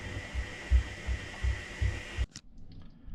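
A washing machine runs a 60 degree cleaning wash, its drum giving a steady low rhythmic thumping with a constant hum, then cutting off abruptly into near silence with faint clicks.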